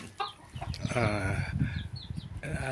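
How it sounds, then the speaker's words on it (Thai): Silkie chickens clucking on a Thai farm, a steady stream of close, busy clucks and calls from several birds with no talk over them. "มาแนะนำแนะนำสมาชิก ที่เลี้ยงไว้นะครับมีเป็นไก่ซิลกี้"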